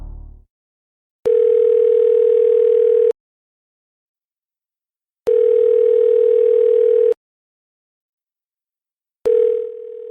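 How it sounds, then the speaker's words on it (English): Telephone ringing with a flat electronic tone in regular bursts about two seconds long, separated by silent gaps of about two seconds, clear and close, with no voices. "when the phone rang, he answered instead of ignoring it"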